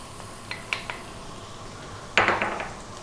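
A few light metallic clinks come first, then a sudden sharp hiss as garlic and ginger hit hot sunflower oil in a wok over high heat for chicken chow mein, fading quickly.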